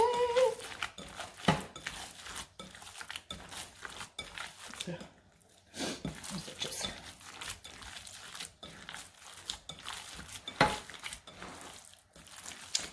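Hands squish and knead a meatball mixture in a bowl, producing close, wet crinkling and squelching bursts in a steady repeating rhythm, with a brief lull midway.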